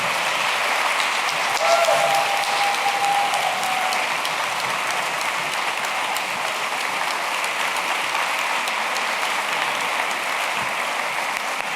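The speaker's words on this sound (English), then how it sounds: "Keep the applause going for all of our speakers, Tayari Jones, Julian Brave Noisecat, Patric" A large audience at a book festival celebration evening claps continuously, a dense, loud, steady wash of applause filling the hall from start to finish.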